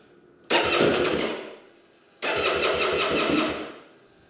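A 600cc two-stroke dirt bike engine is cranked in two separate attempts, each a loud raspy burst of about a second that fades off, with no voices.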